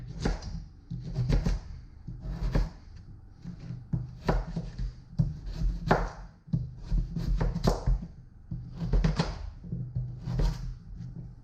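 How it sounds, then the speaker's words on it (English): A knife chops root vegetables such as swede into bite-sized chunks on a board, giving repeated close, dull thunks in uneven bursts separated by short pauses, with no voices. "it's just a case of chopping it into those bite-sized chunks. Chop, chop, and chop it there."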